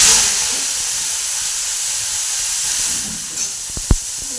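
Steady, loud hissing sizzle of neem leaves frying in hot mustard oil in a kadai, continuous throughout, with a couple of soft clicks near the end.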